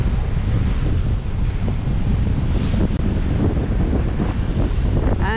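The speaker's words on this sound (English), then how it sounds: "this wind is going to disappear in the afternoon" Steady, loud wind buffets a sailboat on Lagoa dos Patos, a freshwater lagoon in Rio Grande do Sul, Brazil. Continuous rushing gusts mix with faint water wash throughout.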